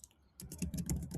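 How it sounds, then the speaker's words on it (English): Computer keyboard typing, a quick run of soft close keystrokes clattering steadily after a brief pause, with no talking. "I'm going to type a subject"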